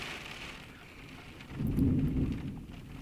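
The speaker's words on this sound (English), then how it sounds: "It's thundering outside." Distant thunder rumbles low and soft over a steady hiss of rain, swelling briefly before fading back.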